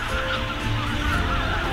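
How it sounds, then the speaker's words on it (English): Greater white-fronted geese, Canada geese and tundra swans call in flight at dusk, a dense continuous chorus of honking from a large flock filling the air with no pauses. "what feels like every bird in the world hits the skies"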